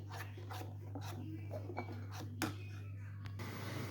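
Egg batter with a quarter teaspoon of turmeric powder being stirred in a bowl for poriappam, heard as soft, irregular scraping and light clinking against a steady background hum.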